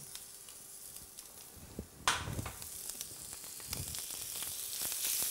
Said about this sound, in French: Je viens rouler mes crevettes dans cette matière grasse afin de les nourrir